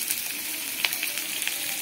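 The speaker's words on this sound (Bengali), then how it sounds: "গ্যাসটাকে মোটামুটি হাই ফ্লেমে দিয়ে ভেজে নেব।" Capsicum and onion fry in a pan over a high gas flame, giving a close, steady hiss and sizzle with small crackling pops and light stirring sounds.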